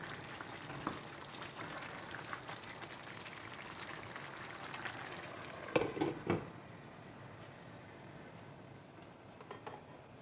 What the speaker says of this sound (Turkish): Şöyle kaynamaya başladı zaten